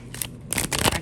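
A deck of tarot cards is shuffled up close in quick riffling bursts, papery flutters and slaps that grow denser toward the end, with no talk.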